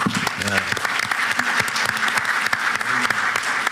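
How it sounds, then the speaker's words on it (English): A round of applause fills a university board of supervisors meeting, steady and close throughout, with a voice talking over the clapping at the start and again near the end. "Let's give him a round of applause."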